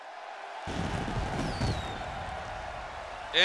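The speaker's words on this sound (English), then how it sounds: "Jason Evans getting the crowd onto their feet" Wrestling crowd at a live show cheering and rising to their feet, a broad roar of voices that swells and holds steady, heard up close and loud.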